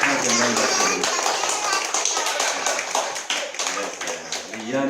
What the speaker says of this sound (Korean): 우리 격려의 박수, 하나님께 영광의 박수